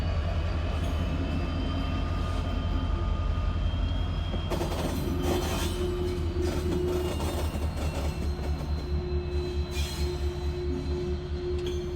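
A shortline locomotive engine rumbles steadily on the track with a deep, continuous low drone, metallic squeals and clatter rising partway through.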